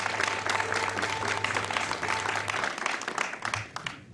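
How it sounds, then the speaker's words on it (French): A television studio audience at a channel's new programme schedule launch applauds a guest, steady clapping with a low music bed underneath that fades out near the end. "On va l'applaudir plus fort que ça"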